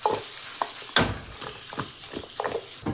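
Chicken wings fry in oil in a pan with salt, giving irregular close crackles and pops along with occasional utensil knocks over a faint sizzle.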